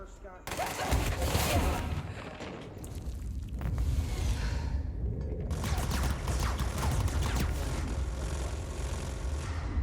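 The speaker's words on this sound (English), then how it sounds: "Fireworks!" Fireworks go off in the video game Control as monsters spawn, a dense run of loud crackling bursts and whooshes that keeps going almost without a break, with a short dip partway through before it builds back up.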